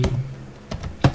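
Keys clacking on a computer keyboard while a command is typed into a command prompt: three or four quick, close, crisp keystrokes spread unevenly over about a second.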